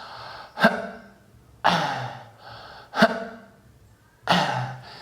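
Four strained, throaty exhalations forced out against a closed glottis, each a sharp catch that opens into a rough, breathy push of air, spaced roughly a second apart, close and clear.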